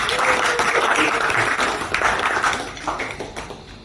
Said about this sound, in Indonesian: Tepuk tangan dulu buat Jauza.